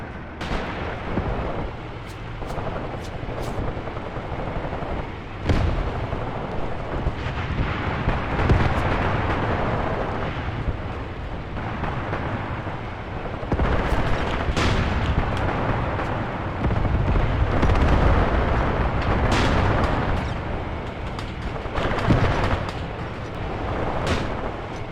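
Off-map mortar fire from two mortars booms repeatedly in the Graviteam: Pivot Point war game, irregular heavy thuds and blasts over a constant rumbling battlefield bed, loud and sustained with no voices.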